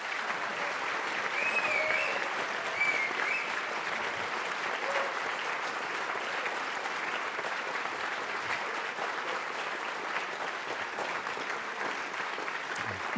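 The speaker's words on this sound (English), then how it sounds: "Let's give a round of applause to all of the students here today." Sustained applause from an audience honouring students at a game technology final presentations event, steady and even across the whole stretch, with faint whistles and voices mixed in the crowd.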